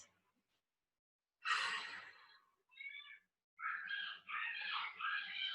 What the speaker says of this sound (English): Take another 2 full breaths.